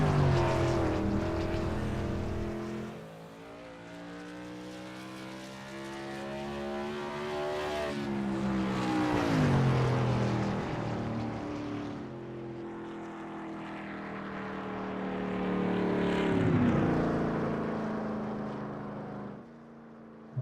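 An SRL M9 Modified race car engine laps Indianapolis in iRacing, droning loudly and continuously while its pitch rises and falls in long sweeps as the car passes through the lap.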